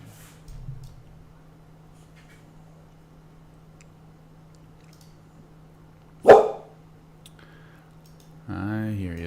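A dog barks indoors during a live trading stream, one brief sharp bark standing out over a low steady hum, with a faint earlier sound and someone speaking at the end.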